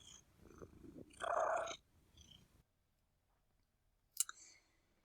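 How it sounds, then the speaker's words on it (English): A cat gives a soft, voiceless purr-trill, a short rolling burst near the start followed by faint murmurs and a brief higher chirp near the end, quiet overall. "it's just purring, so it's softer and voiceless."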